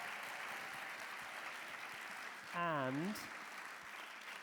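Audience applause for a children's choir from a local school at a UN awards ceremony in Rome, a steady, moderately distant wash of clapping with a voice briefly speaking over it.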